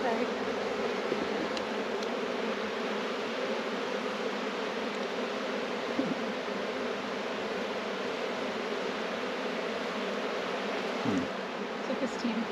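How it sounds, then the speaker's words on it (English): Dense, steady buzzing of many honey bees around an open hive during a May hive check, close and continuous, with a few faint knocks and no talking. "there's a lot of bees"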